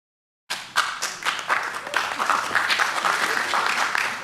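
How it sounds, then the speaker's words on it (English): Applause from the audience at a South San Francisco city council meeting: dense clapping starts suddenly after a brief silence and carries on steadily at moderate loudness until the end, with a few voices mixed in. "I did not expect an applause."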